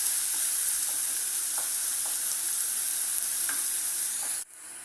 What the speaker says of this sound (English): Saute it until golden brown